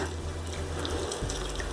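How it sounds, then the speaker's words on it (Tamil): Water poured little by little into idli batter while it is mixed gives a soft trickle over a low steady hum, fairly quiet and close. "கொஞ்சம் கொஞ்சமாக தண்ணி ஊற்றி மிக்ஸ் பண்ணுங்கள்"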